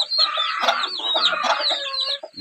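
Hens clucking busily close by, overlapping with thin high cheeping from a small chick, continuous and fairly loud, in a rural Philippine setting.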